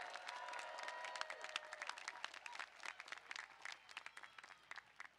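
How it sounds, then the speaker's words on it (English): A graduation commencement audience applauds with dense, sustained clapping that gradually thins into scattered claps, heard at moderate distance in a large hall. "let's give them one more loud applause"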